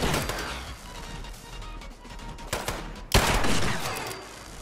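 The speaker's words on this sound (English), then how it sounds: "Who the fuck is shooting at me?" Gunfire aimed at the player in the video game Fallout 76 comes as a dense, continuous rattle of shots with a sharp louder burst near the end, loud and close, with no talking.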